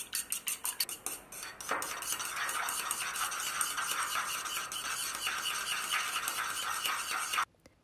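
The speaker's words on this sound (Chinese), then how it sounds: "往蛋黄和蛋清的碗内加入白胡椒粉和少许的盐，将它们搅拌均匀" Egg white, fish pieces, white pepper and salt are stirred in a bowl, first as quick separate clinks and then as a fast, continuous clattering rattle against the bowl's sides. The sound is close but quiet and stops abruptly.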